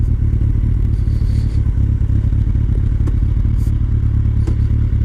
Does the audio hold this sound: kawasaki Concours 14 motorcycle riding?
yes